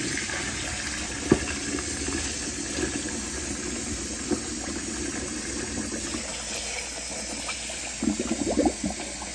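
Cold water runs from a kitchen tap to rinse freshly boiled eggs in a pot, a steady splashing rush with a few small knocks and clatters near the end, no talk.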